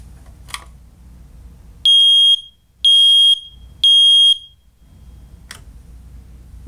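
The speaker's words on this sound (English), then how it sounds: "we could test the smoke alarm." Three loud, shrill electronic beeps from a smoke alarm under test, in a steady rhythm, each about half a second long, against quiet background rumble.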